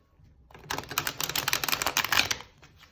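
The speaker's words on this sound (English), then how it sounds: "Let's see how this riffle shuffles." A fast, crisp flurry of stiff tarot card edges flicking together in a riffle shuffle for about two seconds, close and fairly loud, then stopping.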